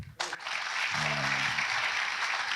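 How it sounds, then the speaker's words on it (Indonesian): Applause from an audience at an Indonesian campaign event with stand-up comedy, a steady wash of clapping that holds for several seconds, with a brief voice near the start. "Tepuk tangan dong."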